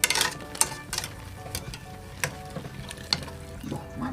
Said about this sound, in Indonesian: Sekarang kita tiriskan nih, pakai ini aja, pakai saringan ya.